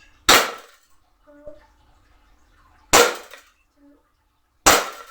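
Three sharp pistol shots fired at a target, spaced a couple of seconds apart, loud and close with short decays, and quiet stretches between them holding faint small sounds.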